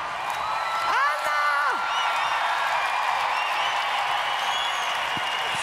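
A large arena audience at the Melodifestivalen 2010 final cheering and applauding in a steady wash of noise, with a voice speaking over it.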